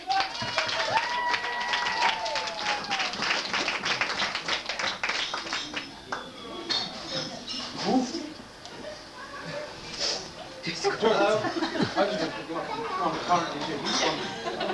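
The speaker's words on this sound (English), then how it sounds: "Round of applause for James, please, ladies and gentlemen." Wedding guests at a reception applaud and cheer for James, with steady clapping, whoops and crowd chatter running under talk across the clip and thinning out in the middle before picking up again.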